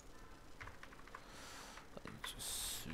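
Quiet clicks of a computer keyboard being typed on, a short run of light keystrokes close by, followed by a brief louder burst of noise.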